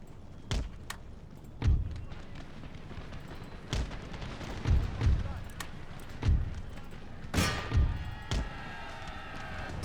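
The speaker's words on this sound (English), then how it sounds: "So my line's taking a bit of a pepping from their cannon." Cannon fire during an Empire Total War land battle, with repeated heavy booms at irregular intervals of about a second or two, some distant and some closer, over a continuous battlefield din.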